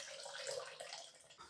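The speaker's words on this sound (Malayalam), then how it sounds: "ഇനി ഇതിലേക്ക് വെള്ളം ചേർക്കാം" Water poured from a measured 200 ml into a homemade smoothie made with a little milk and oats, a short, steady splashing trickle at close range with no talk.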